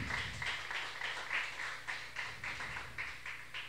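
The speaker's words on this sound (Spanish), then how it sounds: "Un aplauso al Rey de la Gloria en esta hora." A church congregation claps in a steady, even rhythm of about two claps per second over a low background hum. No one speaks.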